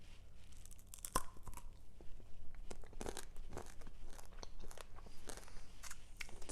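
Close crunching and tearing as hard-shelled chocolate Easter candy is bitten and chewed, with irregular crackly bursts throughout and no talking.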